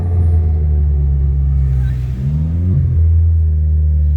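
A car fitted with a DSG7 DQ200 dual-clutch gearbox drives steadily with a loud, close engine drone, then downshifts: a brief dip and rising blip of revs before settling back into a heavier rumble.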